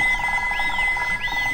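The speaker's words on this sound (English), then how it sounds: "Dr. Hamster's phone rings for a fourth time." A cartoon phone rings in Peppa Pig with a steady electronic trill and a rising-and-falling tone that repeats three times, clear and close, with no talk.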